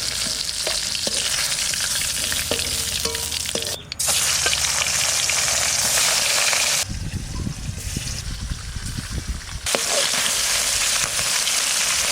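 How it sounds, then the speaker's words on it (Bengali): Loud, continuous sizzling of fish frying in hot oil, with crackles and pops that swell and ease over time. "মাছ ভাজার জন্য একটু তেল দিচ্ছি"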